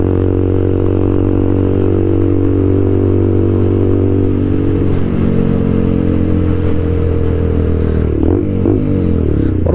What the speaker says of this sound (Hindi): लगा लो मैं कब से मतलब इसका एग्जॉस्ट नोट सुन रहा हूँ